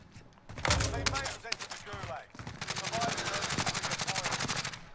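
Rapid automatic gunfire in Call of Duty Warzone, loud and close, with long bursts of shots and a few single cracks, mixed with game effects and faint background voices.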